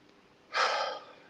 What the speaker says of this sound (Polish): możesz wziąć kilka głębszych oddechów, wdychając powietrze przez nos